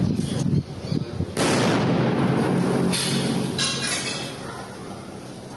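Police set off a controlled detonation of a seized explosive device: a sharp blast bursts out, followed by a long rolling roar and a second rush of debris and echo that slowly fades, outdoors with no talking.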